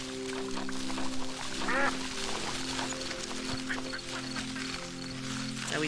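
Duck quacks from the farming game Plentiful, a few short calls over steady game music and ambient tones, moderately loud with faint background chatter.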